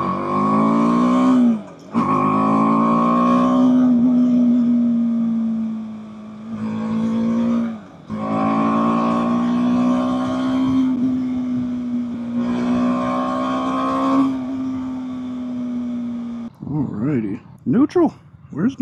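Steady engine drone of a 2024 BMW G 310 R motorcycle while riding, its pitch climbing and settling through gear changes with brief dips between shifts. A rider talks over much of it.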